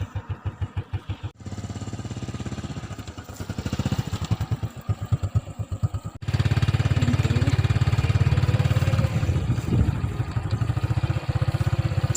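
A motorbike starts and rides along a muddy, rain-slick dirt road near a house, its engine chugging in rapid pulses before settling into a loud, steady drone as it moves off.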